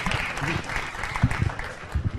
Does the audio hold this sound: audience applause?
yes